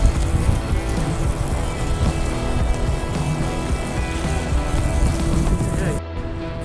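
Water rushes steadily while a fire hose is rinsed during cleaning and inspection. The hiss is broad, loud and continuous and drops off near the end.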